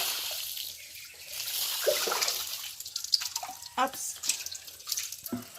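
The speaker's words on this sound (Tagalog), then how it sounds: "So mo ni siya ang timba nga gamiton para makuha og tubig." A bucket draws water from a well in a rural province, with sloshing, dripping and splashes as water spills and trickles, while a voice speaks briefly nearby.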